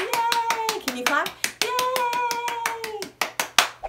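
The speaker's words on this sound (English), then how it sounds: "Can you clap?" Small children at a library storytime clapping in a quick, fairly regular rhythm while an adult sings over the claps, the last few claps ringing out alone and louder.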